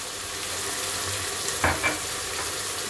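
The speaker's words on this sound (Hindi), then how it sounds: "अब हम इसमें डालेंगे टमाटर, इनको मिक्स करेंगे।" Tomatoes stirred into onions and garlic frying in a pan for a Hyderabadi khatti dal, a steady soft sizzle with a couple of brief scraping stirs near the close.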